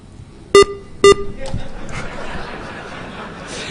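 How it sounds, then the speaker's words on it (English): Two short, loud electronic beeps sound about half a second apart at an RDS encoder workbench, then low chatter and faint laughter carry on in a busy room. "One more beep."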